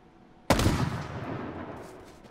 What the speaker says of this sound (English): I got 3 shots in the sniper.